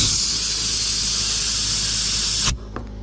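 Compressed air blasts through transmission cooler lines during a Tru-Cool 40k cooler install, a loud steady hiss lasting about two and a half seconds before cutting off sharply, followed by a quiet faint clunk.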